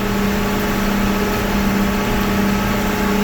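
A big farm tractor engine runs steadily at a constant PTO-range speed, a loud, continuous drone with a low hum and no breaks or talking.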